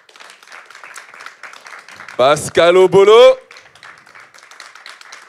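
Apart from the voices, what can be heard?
applause and cheering from the audience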